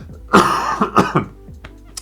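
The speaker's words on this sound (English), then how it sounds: "horrible chesty coughs as well" A deep, chesty cough sounding out in several rough, phlegmy bursts, close and loud, trailing into a few smaller hacks.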